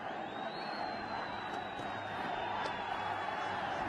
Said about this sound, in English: The crowd have come back to life.